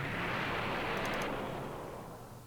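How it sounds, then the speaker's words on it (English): Dragon Ball Z explosion sound effect dropped into a hip-hop beat, a dense, roaring burst of noise that swells loudly and slowly decays over a couple of seconds. "we get a DBZ explosion."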